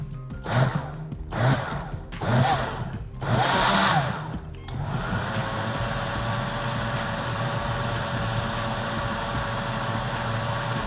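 Caramel milkshake churning in a blender on low speed, with a few short bursts of whirring followed by a steady, continuous motor hum.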